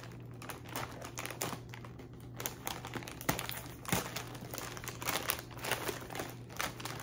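Crinkling and scraping of a mail package being cut open, with irregular crunchy rustles, taps and sharp snips close up and fairly quiet, with no talking.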